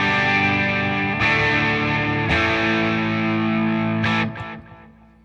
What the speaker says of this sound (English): I can actually now stream playing through the amp